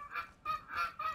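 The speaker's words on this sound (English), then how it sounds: "This is what geese sound like." Goose honks play from a Google Assistant smart speaker, three or four nasal calls in quick succession, each brief and fairly loud, with no one talking over them.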